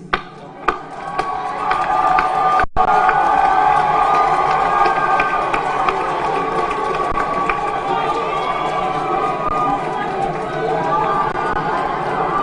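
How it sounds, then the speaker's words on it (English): A large crowd at a Kampala International University graduation ceremony applauds and cheers for the parents, a loud sustained roar of clapping, chatter and cheering in a big venue lasting throughout. "May I request all the graduands to stand and we give a rousing applause to the parents."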